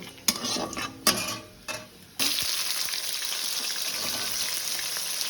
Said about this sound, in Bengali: এই পেঁয়াজটা দিলাম, পেঁয়াজটা একটু নাড়িয়ে নেবো